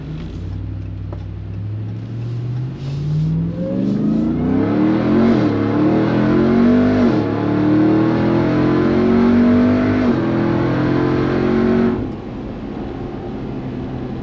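A 2021 Ram TRX pickup accelerating hard with QTP Aggressor exhaust cutouts open, a loud, deep engine roar rising steadily through the gears from inside the cab, with no talk.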